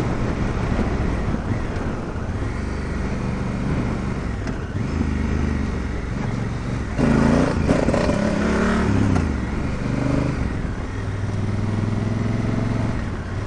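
Honda CRF1000L Africa Twin motorcycle being ridden, a steady engine drone mixed with heavy wind rush, rising briefly as the throttle opens midway, continuous and close.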